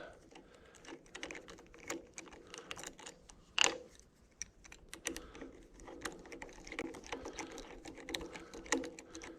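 Hand guard bolts are tightened on a Sur-Ron Ultra Bee electric dirt bike, making quick ratcheting clicks and metal taps close by, with one sharper clank partway through and no clear speech.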